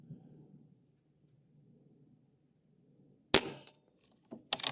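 A Barra 250z regulated PCP airgun fires a couple of sharp, loud cracks close by during target shooting at 50 yards, after several seconds of near silence with a faint low hum.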